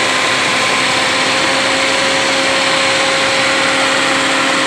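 Suzuki Karimun Wagon R three-cylinder engine running with excessive vibration, a loud, close, steady droning hum with a constant tonal whine and no talking.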